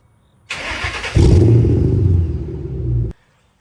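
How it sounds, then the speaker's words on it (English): A 2005-2009 Ford Mustang GT V8 cold-starts with a whirring starter crank, then catches into a loud, deep rumbling idle that holds for about two seconds before cutting off abruptly. "we got to do a cold start, and let's go."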